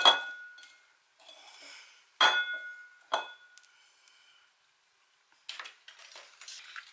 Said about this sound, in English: I'm going to sit my jar in the middle of this glass bowl.